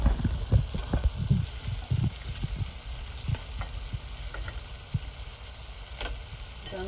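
Fried salt fish going into a pan of hot, sizzling sauce, giving a close, steady frying hiss broken by soft thumps and clatters as the pieces are added and moved.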